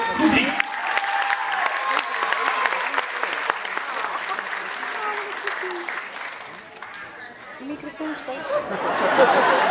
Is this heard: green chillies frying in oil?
no